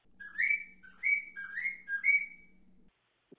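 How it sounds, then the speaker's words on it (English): A handheld bird-whistle sound-effect instrument, the kind used by trap drummers, plays four rising warbling chirps in quick succession. The chirps are close, clear and bright, and the whistle then stops. "Another bird whistle."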